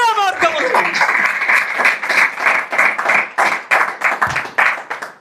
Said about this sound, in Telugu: కొట్టు గట్టిగా చప్పట్లు కొట్టు